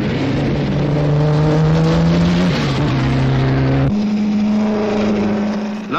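12-cylinder twin-supercharged Delage racing car, its engine droning loud and steady with a shift in pitch partway through, heard alone.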